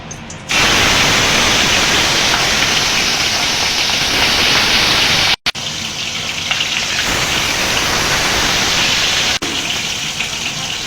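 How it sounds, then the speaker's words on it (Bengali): Fish sizzling loudly and steadily in hot oil in a pan, an even hiss of frying that continues throughout with a brief break near the middle. "তেলটা গরম হয়ে গেছে, মাছগুলো দিয়ে দেব।"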